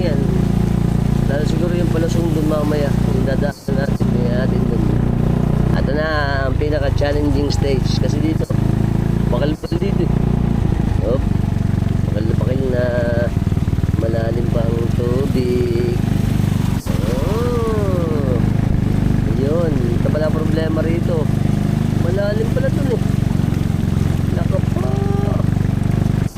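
A motorcycle engine runs steadily throughout, a constant low drone with people talking in Tagalog over it nearly the whole time.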